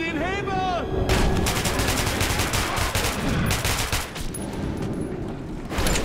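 Rapid gunfire bursts from the video game Metro 2033 Redux, loud dense volleys of automatic shots filling the whole stretch, with a brief lull near the end before firing resumes.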